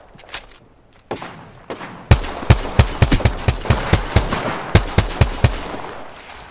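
Gunfire in Apex Legends: a few scattered distant shots, then a loud, close, steady string of about fifteen rapid shots cracking in rhythm, no voices.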